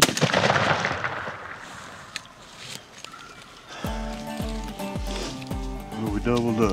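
Two loud, sharp shotgun blasts ring out in quick succession with a rolling echo during a Montana turkey hunt, preceded by muffled rustling and voices nearby.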